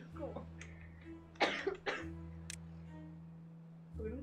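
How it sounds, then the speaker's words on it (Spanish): A person coughs in a short burst of several harsh, close coughs over a steady low hum, with speech heard before and after. "yo llevo tosiendo toda la mañana"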